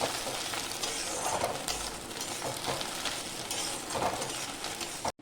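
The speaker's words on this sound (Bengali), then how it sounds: "ফোড়নে 2টো তেজপাতা আর একটু গরম মশলা দিয়ে দিলাম, গোটা গরম মশলা।" Bay leaves and whole garam masala fry in hot oil in a kadai, a steady crackling sizzle with occasional stirring scrapes, fairly close, with no talk.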